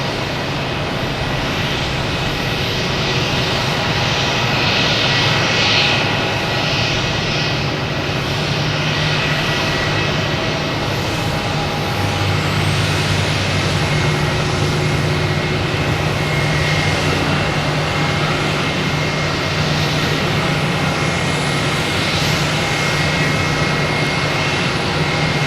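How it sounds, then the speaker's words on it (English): Delta airliner taxiing past at Boston Logan Airport, a steady loud jet engine rumble and whine sustained throughout, close by with no talking. "That Delta is going to be passing right in front of us here."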